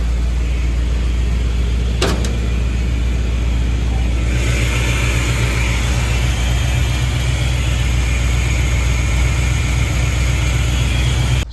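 A Ford Bronco engine idles steadily and loudly up close, a continuous low rumble with a brief sharp click near the start and a slight shift in tone partway through.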